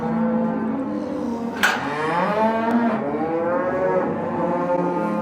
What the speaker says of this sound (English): The cows are always willing to come out.